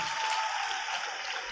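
Audience gives a round of applause for participants at the Agnathon 2K21 interschool and intercollegiate fest at St Agnes PU College, faint, steady clapping throughout with no voices.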